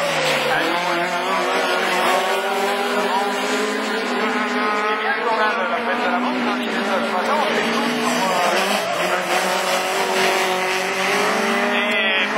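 Rallycross Division 4 cars racing at Lessay in 2013, engines roaring continuously with tire squeal and skidding throughout, loud and sustained under an excited commentator's voice.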